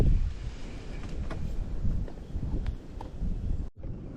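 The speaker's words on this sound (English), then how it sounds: "west wind is blowing" A west wind blows over open water, a steady rough rush of gusts buffeting the microphone from a fishing boat, loud and continuous before a brief drop near the end.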